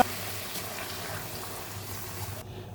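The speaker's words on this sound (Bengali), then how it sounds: "এবার আমি এর ভিতরে গরম জল মিশিয়ে দেবো।" Hot water poured steadily into rice for Bengali basanti pulao, a continuous gushing pour that runs close and fairly loud for nearly three seconds before cutting off.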